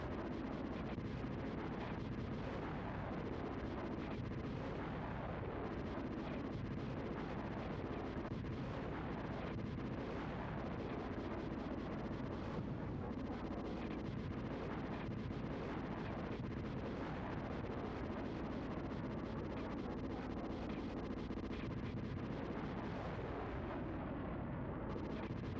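Missiles explode over and over in the SNES tank game Super Battletank 2, a dense, steady roar of blasts and rumbling that fills the whole stretch at an even level, with no pauses.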